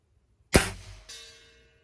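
A .177 Browning Leverage air rifle fires once, followed about half a second later by a fainter metallic ring as the pellet strikes a 10-inch steel plate 85 yards away on a calm day.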